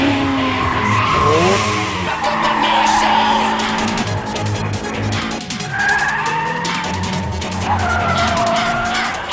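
Toyota AE86 drifting in a street race against a Mazda FC3S RX-7, tyres squealing continuously over a loud, revving engine, a sustained close skid with shifting pitch and no voices.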